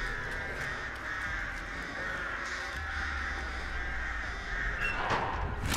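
Crows in a video game caw repeatedly over several seconds, layered into a steady, dense ambient game soundscape.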